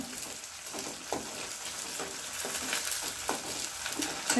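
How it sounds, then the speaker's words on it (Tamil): Onions, green chilies and curry leaves sauté in a pan for a Chettinad-style vegetarian fish curry, a steady close sizzle with intermittent scrapes and stirs of a utensil against the pan and no talking. "கொஞ்சம் வெங்காயம் இந்த அளவுக்கு வதங்கிடுச்சு"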